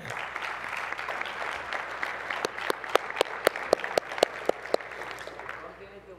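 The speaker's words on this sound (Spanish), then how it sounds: "un aplauso por favor para la universidad" At a university prize ceremony for an IPv6 challenge, a small audience gives scattered applause with distinct, sharp individual claps that build, then thin out and fade, following a voice at the start.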